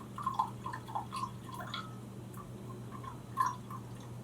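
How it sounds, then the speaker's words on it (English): Distilled water poured into a lab container toward a 100 milliliter mark, giving soft, quiet liquid plinks and gurgles that come in a few irregular bursts over a faint background hum. "Here's my distilled water, which is nice and clean. And I am going to go ahead and pour it"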